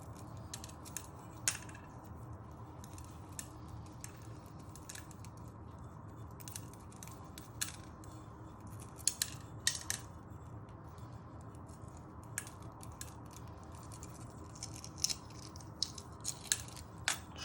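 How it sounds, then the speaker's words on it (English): Boiled egg shells being peeled by hand for egg ramen soup, heard as close, irregular crackling ticks and small snaps over a steady kitchen background hum. "So I'm peeling my eggs"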